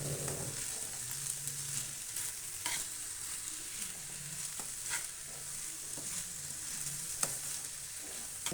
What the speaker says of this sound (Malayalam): വേവിച്ച് വെച്ച പാസ്ത ഇതിലേക്ക് ഇടുകയാണ്. തന്നെ മിക്സാക്കണം.